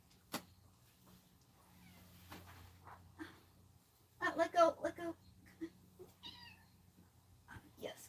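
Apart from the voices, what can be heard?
cat meowing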